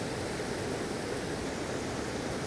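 Steady broadband rush of a waterfall, constant and unbroken with no other sounds.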